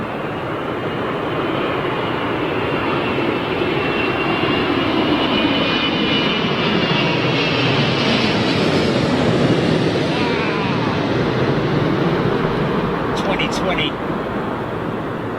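An airliner arriving on London Heathrow's runway 27L roars loudly and steadily as it passes close overhead, its engine noise swelling and then easing while spectators talk beneath it.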